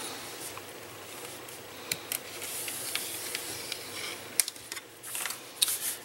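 A blade scoring a craft foam sheet along marked lines for a gift bag, soft scratchy hisses and light scraping strokes, close and quiet, with a few sharper clicks near the end.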